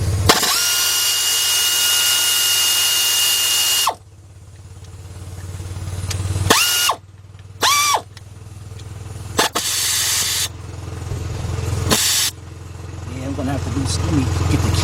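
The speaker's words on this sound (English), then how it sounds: "Let's loosen up all these bolts." Ratchet loosening water pump bolts on a Chrysler/Dodge/Jeep engine: a long loud burst of tool noise, then several shorter sharp bursts separated by quieter gaps, close up.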